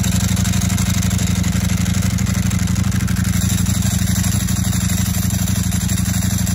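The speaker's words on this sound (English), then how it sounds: "So if you guys aren't familiar with what a dry clutch sounds like" A motorcycle's dry clutch rattles steadily over a constant idling engine drone, a dense metallic clatter that stays at one level and close by throughout.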